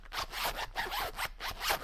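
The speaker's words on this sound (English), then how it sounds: "Zipper works extremely well" A zipper on a travel paintbrush case is pulled in several quick, rasping strokes, close and fairly loud, with no one talking.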